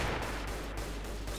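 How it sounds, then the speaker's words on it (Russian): A gauss cannon firing in the Diversant Hybrid mod of a shooter game, a harsh continuous noisy blast with rapid crackling pulses, loud and dense throughout. "В этой модификации так у нас гаусс-пушка стреляет?"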